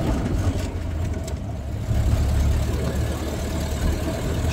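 A 1931 Ford Model A Roadster drives on the road, its engine a steady, close, low rumble that swells slightly partway through, with no voices over it.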